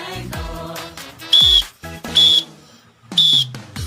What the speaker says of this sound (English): if you hear me whistle twice